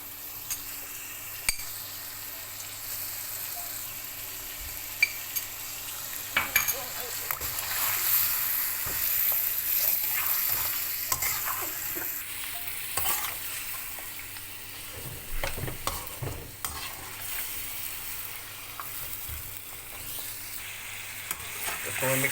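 Mutton pieces with salt fry in a pot, stirred to brown them, giving a soft continuous sizzle broken by scraping and clinking stir strokes, with someone speaking over the cooking.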